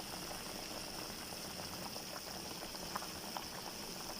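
Chicken haleem bubbling in a pot on a stove, a soft continuous simmer with scattered small pops and bubbles, faint and even throughout without talk.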